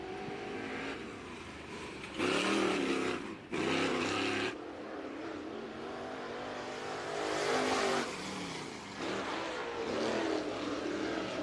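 Dirt track race car on a qualifying lap at Clarksville, engine note surging loudly in several bursts as it passes and fades between them, with no talk over it.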